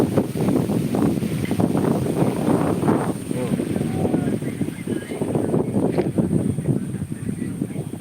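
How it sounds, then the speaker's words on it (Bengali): Countryside wind buffets the microphone in a continuous rough rumble that surges and eases over several seconds, loud and close, with no clear voice. "এই যে হাওয়া"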